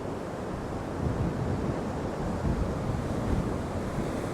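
Steady roar of surf and waves with wind buffeting the microphone as a storm arrives at Ventnor, Isle of Wight, continuous and loud with no voices.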